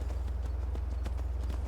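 Steady, rapid clip-clop of horse hooves galloping in Skyrim, an even rhythmic pounding with a constant low rumble, close and fairly loud throughout.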